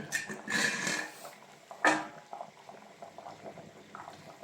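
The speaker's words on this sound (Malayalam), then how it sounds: "എല്ലാ വശവും നന്നായി തിളച്ച് വന്നിട്ടുണ്ട്" A pot of fish curry bubbles and hisses softly as a lid is lifted, with a louder burst of sizzling steam partway through, then gentle simmering continues.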